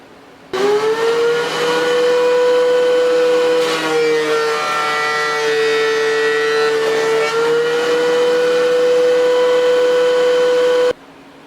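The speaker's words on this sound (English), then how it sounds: "I'm going to take this one down one more grind." A grinder works down a grapevine walking stick in a workshop, a loud, close, sustained motor whine with a steady pitch that dips slightly under load midway and stops abruptly near the end.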